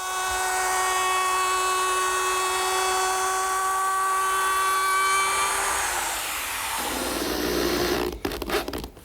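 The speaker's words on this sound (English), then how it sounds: "I'm just using my router" A router fitted with a chamfering bit spins on wooden cleats for a bench with a loud, steady high-pitched whine that winds down in pitch after several seconds, ending in a few scattered clatters, with no speech.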